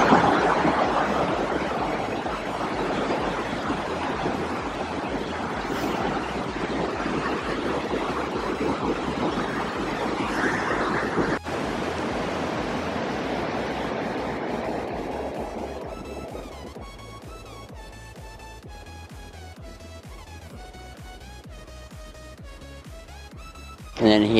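A river flows beside a city park with a broad rushing wash of water and wind. The wash fades partway through to quieter ambience with faint music.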